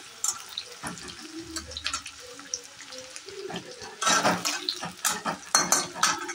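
Taro leaf curry is stirred in a pan, with clinks and scrapes of a utensil against metal, sparse at first and then a busier run of clattering strokes, close and fairly quiet.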